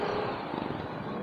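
Road traffic in the Philippines, heard from a Lalamove delivery driver's position: a steady, moderately loud rumble of passing cars and motorcycles that fills the whole moment, with no talk.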